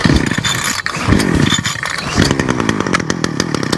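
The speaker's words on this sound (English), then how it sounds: "give this machine a couple of pulls until you hear the machine fire." A Titan TTK587GD0 petrol multi-tool engine fires after pull starts and runs with a loud, steady, buzzing two-stroke drone, close up and with no talking.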